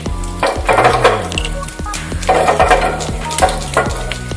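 Dried red chillies and whole mustard seeds splutter in a spoonful of refined oil in a nonstick pan for a sambar dal tempering, with crackling sizzle, sharp pops and a few utensil clinks throughout.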